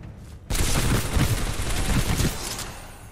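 Rapid gunfire erupts in Titanfall 2 as robot enemies burst apart. After a brief quiet start, a dense, loud, sustained barrage of shots and crackling blasts rolls on for a few seconds, then tapers slightly.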